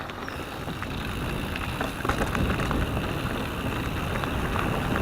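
Steady wind rushing over a chest-mounted action camera on a bike trail ride, a loud continuous buffeting roar with rolling tire rumble beneath it.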